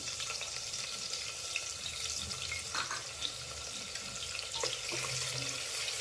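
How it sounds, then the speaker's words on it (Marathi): Sliced onion sautéing in hot oil with cumin and mustard seeds for Khandeshi masala khichdi, a steady close sizzling hiss with faint stirring clicks and no talk. "त्यामध्ये घेतलेला कांदा आहे स्लाइस केलेला तो टाकून घेऊ आणि कांदा आपल्याला चांगला परतून घ्यायचा आहे"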